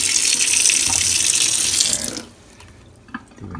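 Hot then cold tap water runs loudly and steadily from a faucet to fill a container, a continuous rushing gush that cuts off abruptly, leaving faint drips and small clinks behind.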